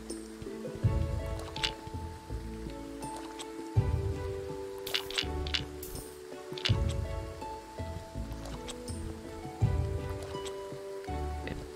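Rain in the video game Graveyard Keeper patters steadily and softly, joined by scattered louder thumps and game effects, with no talk over it.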